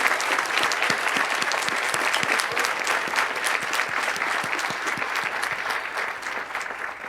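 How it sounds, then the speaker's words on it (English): A room full of people applauds steadily at a university presidential investiture ceremony, dense clapping that holds at a strong level and tapers only slightly toward the end. "Another round of applause for Westfield State's"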